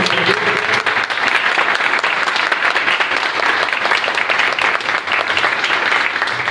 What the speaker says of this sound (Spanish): damos aplausos, por favor